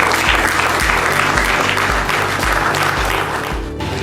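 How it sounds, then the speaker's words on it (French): Loud, dense audience applause at a creativity and initiative forum in Owando, steady clapping filling the room throughout with no speech over it. "que je vous prie d'applaudir très respectueusement"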